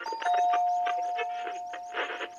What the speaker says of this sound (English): pressed the calling bell